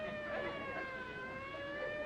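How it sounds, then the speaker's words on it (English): A sustained wailing siren with steady rising and falling tones, fairly loud and continuous throughout, with no talking. "Them sirens! Somebody's calling the law."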